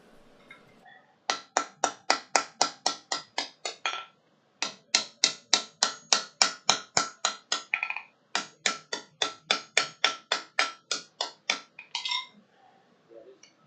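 A hammer strikes a 457-pound Harbor Freight anvil in three quick bursts of sharp, ringing blows, each a fast, even run of about a dozen strikes separated by short pauses, loud and close with no talk.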